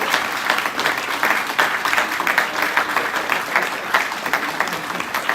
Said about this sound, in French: applaudissements pour Abhilash.